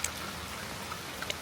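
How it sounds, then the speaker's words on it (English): Steady rain from the tail end of a storm falls as a dense, even hiss, with a few faint drip ticks and no voices. "It's raining pretty good."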